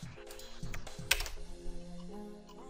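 Computer keyboard keys are pressed for a copy-and-paste in a capital budgeting spreadsheet, with a few quick, light clicking taps, close and fairly quiet, with no talking.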